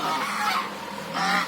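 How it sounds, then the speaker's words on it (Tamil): Two ducks call with nasal, honking quacks in a short pair of calls, fairly close and loud over steady outdoor background noise. "இப்போ வாத்து பாருங்கள், 2 வாத்து வந்துருச்சு"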